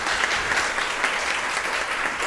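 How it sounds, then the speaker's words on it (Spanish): Steady audience applause fills the room at the close of a natural history museum café talk in Valparaíso, dense and even throughout with no speech over it. "un aplauso para ustedes que se animaron a este café"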